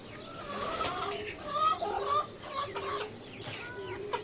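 Domestic chickens cluck repeatedly in a free-roaming outdoor yard, a string of close, moderately loud calls in irregular bursts over background ambience, with no talking.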